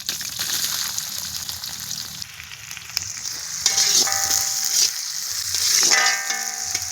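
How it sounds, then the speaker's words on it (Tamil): Onions sizzle steadily in a hot pan, frying until golden, with a constant crackling hiss, close up, with occasional stirring clinks. "வெங்காயம் நல்லா பொன்னிறமாக வதங்கட்டும்"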